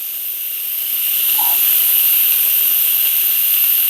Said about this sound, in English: So here we're gonna hit the lever. And all the steam is gonna come up